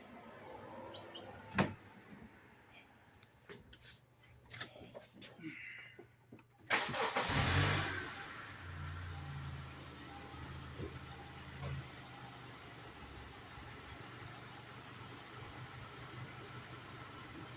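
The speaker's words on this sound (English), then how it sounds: "Now I'm going to start the car" A car engine starts with a brief loud crank and catch, then settles into a steady low idle that runs on, with small handling noises and faint bird chirps beforehand.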